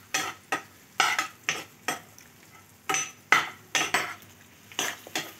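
Chapati noodles with turmeric being stirred in a pan, a series of separate scraping, clinking strokes of a utensil against the pan with soft sizzling between them.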